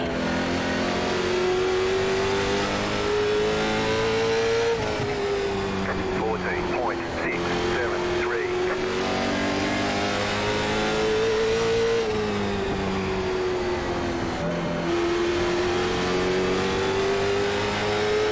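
A late model stock race car engine drones and revs on track in a steady loud whine rising and dipping with each lap, while a commentator talks over it.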